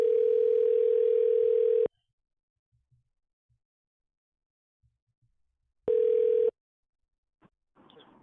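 A telephone gives a loud, steady electronic tone for about two seconds, falls silent with faint clicks, then sounds a shorter matching tone before soft rustling.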